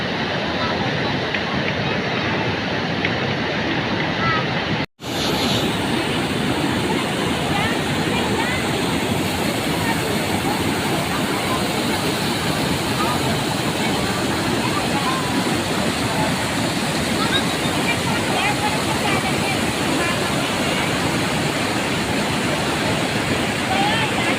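Steady rushing water pours continuously over a small makeshift waterfall used as a children's slide, loud and close, with a brief dropout near the start before the flow resumes unchanged.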